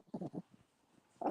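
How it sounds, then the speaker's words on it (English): A small dog barks in short bursts near the start and again at the end, a little way off, with a quiet stretch in between. "my dogs were getting a little bit antsy"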